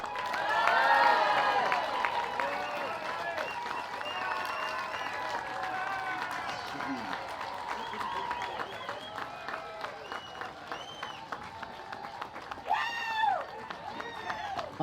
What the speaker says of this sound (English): put your hands together and give a mighty cheer for Paddy Dimmer.